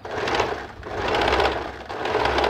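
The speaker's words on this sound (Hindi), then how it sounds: "इस तरह से मशीन को प्लेटें बराबर से सही करते हुए हमें मशीन चला देनी है" Sewing machine stitching the seam of a cotton nightgown, a steady close whirring drone running nearly the whole time with two brief slowdowns, no voices.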